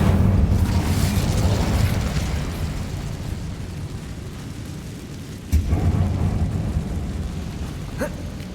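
Incendio fire spell cast inside a dark abandoned mine cavern in Hogwarts Legacy: a loud roaring whoosh of flame that slowly fades, then a second sudden burst flares up and rumbles on, with no talk.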